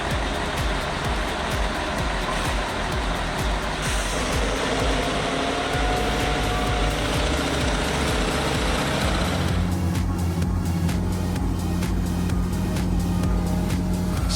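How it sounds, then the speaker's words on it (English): A heavy crane's engine roars continuously under strain while stuck climbing a hill, a loud, dense mechanical drone with grinding and rattling that shifts in tone partway through and never lets up. "The engine roared hopelessly. The wheels slid on the road."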